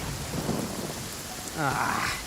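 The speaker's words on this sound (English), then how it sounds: "Uh-oh! Lightning storm!" Rain and rumbling thunder fill a lightning storm on Yashiori Island in Inazuma, in the video game Genshin Impact, as steady rainfall hisses under brief chirpy game tones.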